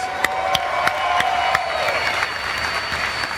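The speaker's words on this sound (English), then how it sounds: "Round of applause for Vin Diesel," Audience applause for Vin Diesel at a Dodge Challenger SRT Demon launch event, a dense crowd clapping with some cheering, with a few sharp nearby claps standing out over the steady roar.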